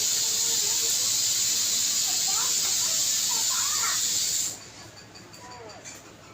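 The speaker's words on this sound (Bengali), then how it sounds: "ততক্ষণ ডালটা সিটি মারুক" A pressure cooker cooking dal lets off a loud, steady steam hiss that cuts off abruptly partway through, leaving quieter room sound with a faint voice in the background.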